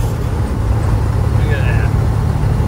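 A Freightliner FLD truck's engine pulls under power with a loud, constant low rumble and road noise, and someone talks over it.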